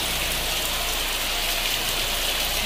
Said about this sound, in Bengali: প্রচণ্ড মুষলধারায় বৃষ্টি হচ্ছে